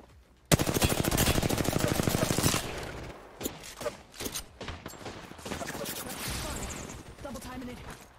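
Rapid automatic gunfire from a low-recoil rifle in a shooter video game, a loud sustained burst followed by shorter bursts and scattered shots, with a voice speaking faintly underneath.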